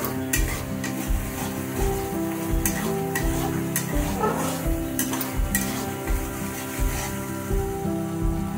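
Spices sizzle steadily in a hot pan while being stirred, with a continuous frying hiss and repeated scraping strokes of a spoon against the pan throughout.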